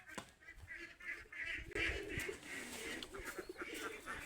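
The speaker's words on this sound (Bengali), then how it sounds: "আমার হাঁস কই যেতেছে হাঁস।" Domestic ducks call in an open field with repeated quacks and honks at moderate distance, faint and slightly muffled, with no talking.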